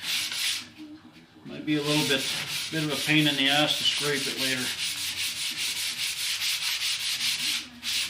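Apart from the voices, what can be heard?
sanding Les Paul guitar kit binding with 400 grit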